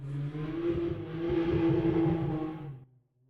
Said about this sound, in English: Another car going nuts.